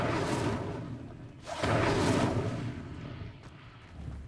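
Incendio fire spell cast in Hogwarts Legacy, a soft whooshing burst of flame swelling then fading, with a second rushing blast a moment later, fairly quiet.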